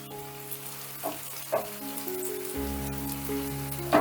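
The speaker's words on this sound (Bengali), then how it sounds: "এক পিঠটা ভাজা হয়ে গেছে এবারে আমি উল্টে দিচ্ছি" Semolina fritters sizzle in hot oil in a pan after being flipped. A soft crackle sits under a steady humming drone, with a few clicks and light bumps. No voice is heard.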